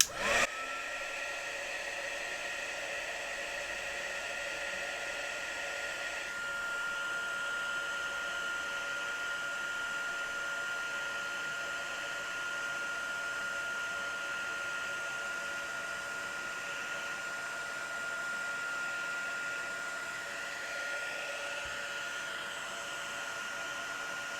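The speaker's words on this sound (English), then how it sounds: "Just make sure your heat tool is nice and hot, and I'll be doing it underneath as well." A craft embossing heat tool blows hot air in a steady, even whoosh with a faint whine, running continuously and close for the whole stretch with no talking.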